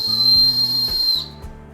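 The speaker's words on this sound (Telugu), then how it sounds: "ఇది విజిల్ రాఖీ." A whistle rakhi made for children, blown in a steady shrill tone for over a second before cutting off, close and loud, followed by a faint short tail.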